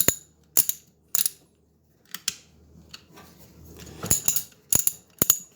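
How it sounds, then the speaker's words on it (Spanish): A Gedore half-inch reversible ratchet wrench clicks in short close bursts of sharp metallic ticks, with pauses between, set in a quiet workshop. "Es de la marca Gedore y es una llave crique de media"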